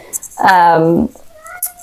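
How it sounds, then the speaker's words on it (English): Single drawn-out meow from a cat shut behind a closed door, wanting to come in; a clear, fairly loud cry lasting about half a second between quieter moments. "So if you hear my cat meowing,"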